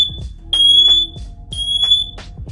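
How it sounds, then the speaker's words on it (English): A Citadel smoke detector sounds during a test, sending out loud, piercing electronic beeps in two repeated bursts close to the listener, with a lower warble beneath and no talk. "Hold it down right here. Nice little easy test button."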